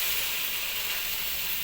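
Chicken liver masala sizzles in a pan as a little water is added, giving a steady, loud, even hiss of steam with no pauses.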